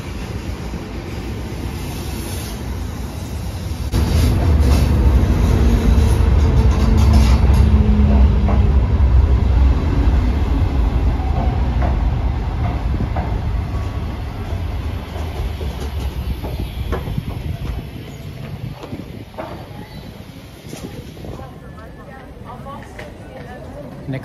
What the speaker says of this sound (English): These trains leave from separate platform underneath Zürich Hauptbahnhof.